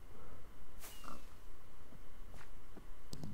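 Pigs in the Minecraft video game give a few short grunting oinks amid steady game background noise, with brief sharper sounds near the end.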